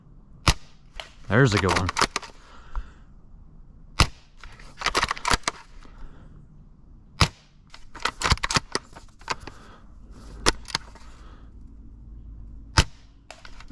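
Several sharp airsoft sniper rifle shots crack out one at a time at irregular intervals, mixed with bolt-cycling clicks and handling noise, while someone talks briefly between shots.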